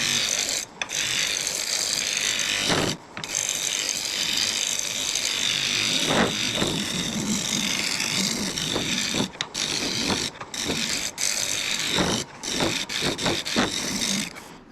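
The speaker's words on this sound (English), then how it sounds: "Let's see if we can get this scraped out of here a little bit, get some shape" A myrtle wood candle bowl being scraped out, a loud close grinding, chattering tool noise in long sustained runs broken by brief pauses, with no voices.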